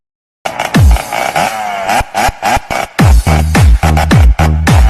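A loud, close motorcycle engine revs repeatedly in sharp bursts, with choppy throttle blips and short gaps between them, ending in a sustained rev.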